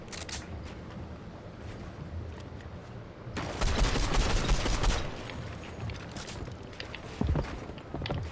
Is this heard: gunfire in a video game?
yes